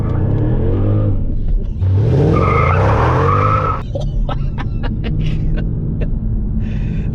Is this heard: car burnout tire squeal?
yes